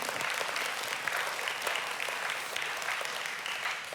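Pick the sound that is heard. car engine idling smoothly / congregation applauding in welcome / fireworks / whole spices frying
congregation applauding in welcome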